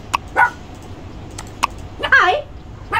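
A puppy in a Roblox game gives a few short, sharp yips and barks over a steady low hum, with a brief vocal sweep near the end.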